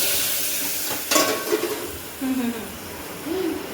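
Mustard seeds and cumin crackle in hot oil for a Gujarati dal tempering, a busy close sizzle with sharp pops and a few utensil clinks.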